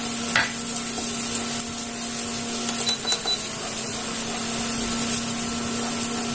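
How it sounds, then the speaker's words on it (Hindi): Garlic cloves sizzling in hot desi ghee, a steady soft crackle and hiss continuing without break, with a few faint clinks. "लहसुन की कलियां डाल दें"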